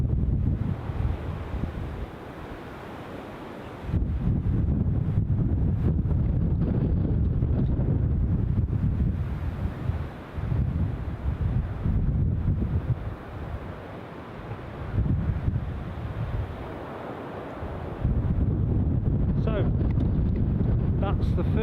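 Strong, gusting wind buffets the microphone at Newcastle International Airport during windy plane spotting, roaring in heavy low rumbles that surge and ease, with a voice speaking intermittently underneath.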